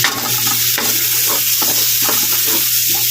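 Minced white onion sizzles loudly in a hot pan while being stirred for malunggay fried rice, close up. A dense crackle is broken by repeated scraping and tossing sounds, with no talking.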